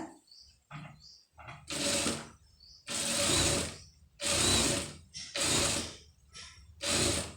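A tailoring sewing machine runs a line of stitches along blouse lining, five or six loud mechanical bursts of a second or so each, separated by short pauses and soft handling clicks, close by with no talk.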